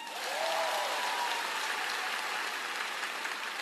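An audience at an El Shaddai prayer gathering claps together in a thick, steady burst of applause that swells quickly and holds evenly throughout.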